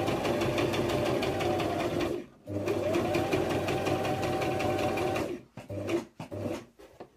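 A sewing machine stitching a fabric-covered knot bow headband runs in steady rapid bursts with a mechanical rattle, pausing briefly twice as the needle stops and the fabric is turned, then finishing in short stop-start runs.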